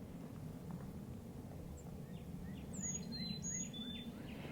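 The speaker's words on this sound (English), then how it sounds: "I got some birds singing." Wild Carolina chickadees sing in a shade garden near a feeder, with a few faint, thin, high chirps heard at a distance over a steady background hum.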